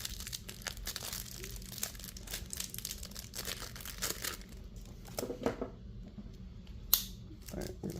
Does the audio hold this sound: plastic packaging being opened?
yes